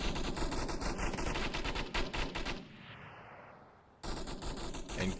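Machine gun fire in the virtual reality shooter Onward, rapid continuous bursts close and loud, pausing briefly before another burst resumes.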